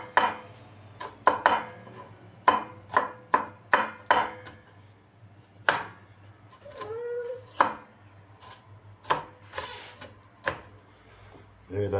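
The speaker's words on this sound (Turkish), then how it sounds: "Evet arkadaşlar, soğanımızı doğradık." A knife strikes a cutting board in a home kitchen while onion is chopped, in irregular bursts of sharp knocks with pauses between, fairly close, over a low steady hum, with a brief cat-like or child's vocal sound midway.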